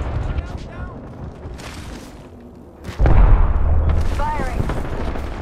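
Missiles launching in a flight combat video game, a heavy boom near the three-second mark rolling into sustained roaring blast, with a voice talking over the game action.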